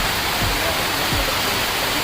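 Steady, heavy rain falls outdoors as a constant dense hiss with no breaks, broken only by a couple of faint low thuds.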